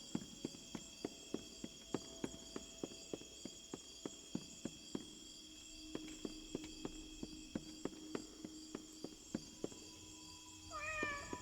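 Cat in the video game Indigo Park meows near the end, after a long run of regular, evenly spaced footsteps over a faint constant hum, with the meows brief and fairly quiet.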